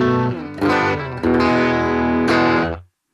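A Telecaster played on its bridge pickup through a Boss GT-1000 twin amp model with no reverb rings out in a few sustained chords, loud and close, each cutting off cleanly at the end.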